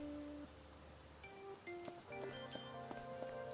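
Steady rain falls in an area of a Persona video game, a soft continuous patter running under gentle tonal game music with plucked notes, no talking.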